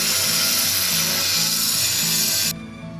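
Abrasive wheel cuts square holes through roofing tiles with a loud, steady, gritty whine for a couple of seconds, then cuts off abruptly and leaves a quieter motor hum.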